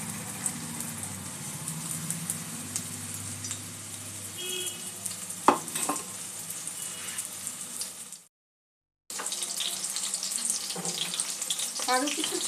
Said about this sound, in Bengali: এইভাবে 4-5টা করে একসাথে করে ভেজে নেব।